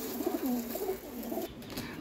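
A white Zeera pigeon, a high-flyer breed, coos in soft, rolling low notes across two seconds, fairly close and alone over faint background noise.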